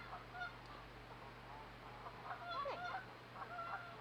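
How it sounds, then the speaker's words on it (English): Geese honk faintly in the distance outside a porcupine den, several scattered calls rising over a low steady hum and background hiss. "The geese are making noise in the background."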